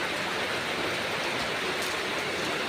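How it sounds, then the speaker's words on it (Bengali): Steady rain falls outside, a continuous even wash of broadband hiss with no talking over it. "বাইরে এখনো বৃষ্টি হচ্ছে, দেখেন।"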